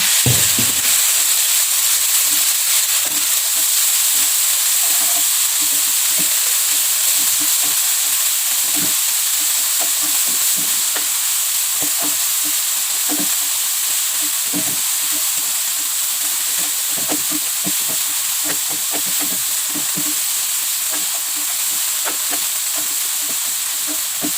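Spice paste for tuna balado frying over low heat in a pan while being stirred, a continuous close hiss and sizzle with irregular scraping clicks of the spoon throughout.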